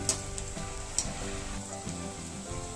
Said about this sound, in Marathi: अशा प्रकारे मंचुरियनचे सगळे गोळे आपण तळून घेऊ.